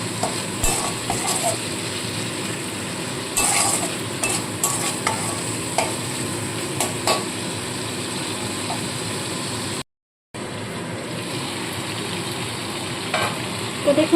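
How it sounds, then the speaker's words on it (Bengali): Spice paste for stuffed pointed gourd sizzles in oil in a pan, with a continuous frying hiss and repeated scraping clicks of the spoon. A short gap of silence breaks the sound before the sizzling resumes. "একদম কম আছে মশলাটাকে কষাতে হবে"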